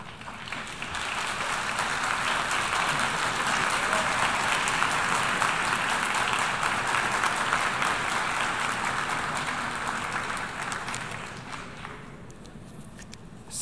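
Sustained applause from an audience at a United Nations conference following a presidential speech, a dense, even wash of clapping that holds steady for most of its length before thinning out near the end.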